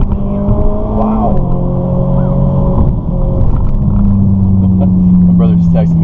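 Ferrari 458 engine heard from inside the cabin during a ride-along, a loud, steady droning rumble with rising and shifting engine tones as it accelerates, while people talk over it.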